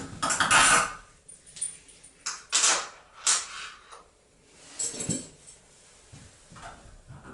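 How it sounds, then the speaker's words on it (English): Metallic clinks and scrapes from taking out the two bolts on a Moen Posi-Temp shower valve trim plate, several separate close taps and rattles with quiet gaps between them. "Take these two bolts out all the way out."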